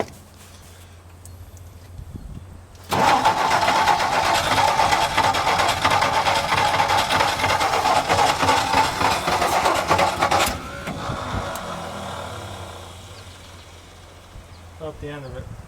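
Engine of a 1962 Ford F-350 farm truck roaring to life after a sudden start, running loud and rough with a steady buzzing drone for several seconds before dropping to a quieter idle.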